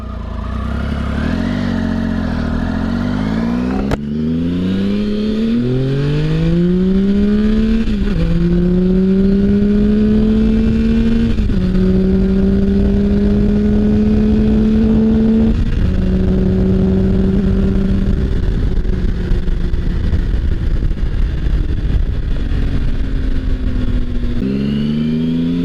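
A 2007 Triumph Tiger 1050 motorcycle engine revving and pulling hard on a short ride, rising through several gears with each climb in pitch broken by a shift, loud and close with steady wind rush underneath.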